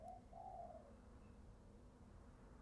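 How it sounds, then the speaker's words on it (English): A bird outside a room gives a short pair of cooing calls at the start, muffled and fairly distant, followed by steady low background hum. "That's a really loud bird."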